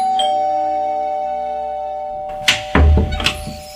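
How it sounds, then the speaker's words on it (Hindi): A doorbell rings twice amid a thump or two, following a steady hum that drops away, a sound effect in a Hindi horror audio story. "थोड़ी देर बाद ही डोरबेल बजी।"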